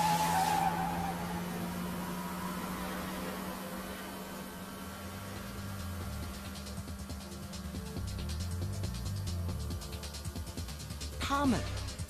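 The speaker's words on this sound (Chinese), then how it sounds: "这些赛车是检验最新科学技术的车模，上面并没有驾驶员" Remote-controlled model race cars speed past with tires skidding and squealing, engines whining up and fading, as a voice narrates over the action.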